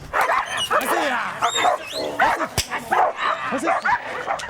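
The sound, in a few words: police dogs barking during bite training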